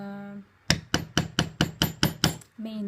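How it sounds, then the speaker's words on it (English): Metal beveler struck by a mallet on tooled leather, eight sharp, evenly spaced taps close up, framed by a steady hum before and after. "Now I'm starting to bevel."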